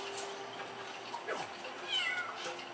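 Cartoonish cats meow in the video game Little Big Planet 3, a couple of short, moderately loud mews, including a sliding cry, over quiet game background sound.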